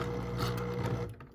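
A sewing machine stitching ribbon onto a fabric ornament hums and whirs in a short, steady mechanical burst, then stops and quiets down.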